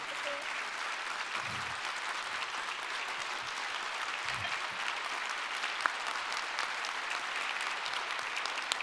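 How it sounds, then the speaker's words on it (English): Enormous round of audience applause at an ophthalmology conference session honoring 36 years of public service, a steady dense wash of clapping from a large crowd, fairly distant and even in level throughout. "36 years of public service requires an enormous round of applause"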